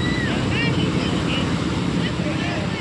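Sea waves wash onto the beach at Ganpatipule, a steady broadband roar of surf and wind across the whole stretch, with faint chirps and murmuring voices nearby.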